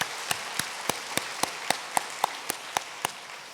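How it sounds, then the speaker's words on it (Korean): Clapping during a church worship service as a new member is welcomed: a run of about a dozen sharp, evenly spaced claps at a quick steady beat, crisp and close over a quiet room. "박수로 환영하도록 하겠습니다."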